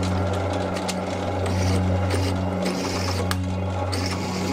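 A power drill hums steadily at low speed drilling holes in metal for knife making, with a constant mechanical drone and occasional faint clicks and scrapes of metal.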